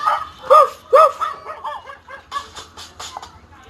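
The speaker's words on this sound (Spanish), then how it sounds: "Dime si tú sabes cómo hace el perro." A dog barks in a quick run of sharp, loud yaps, then softer barks trail off over a low steady hum.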